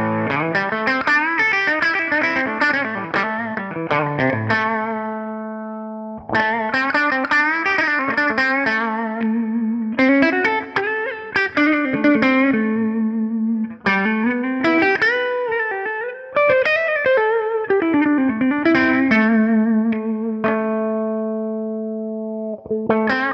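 A Les Paul electric guitar with a clean tone runs through a Donner Dynamic Wah pedal, playing chords and riffs with sweeping filtered wah tones in several phrases separated by brief pauses.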